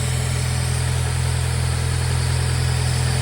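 Nissan Pulsar N14 with an SR20DE engine idling, its intake box half removed, a loud steady low hum with even vibration and no pauses.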